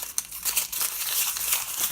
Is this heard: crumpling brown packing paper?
yes